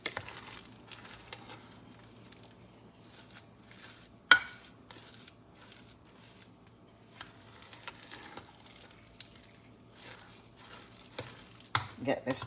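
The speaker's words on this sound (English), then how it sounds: "Get this all mixed up, all stirred up." Breakfast muffin batter with ground flaxseed being stirred in a bowl, quiet intermittent scraping and thick mixing strokes with an occasional sharper knock against the side.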